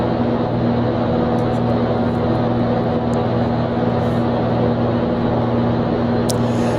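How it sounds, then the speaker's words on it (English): A propeller airplane engine drones steadily and loudly inside the X-Plane flight simulator, a constant close hum with no pause throughout. "let's get rid of the ambient noise here, the X-plane engine."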